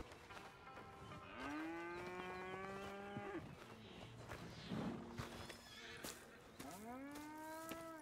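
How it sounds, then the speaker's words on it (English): Cows moo in the Red Dead Redemption 2 video game, two long low bellowing calls near the start and end with a softer sound between, heard alone against quiet ambience. "Here's the cows."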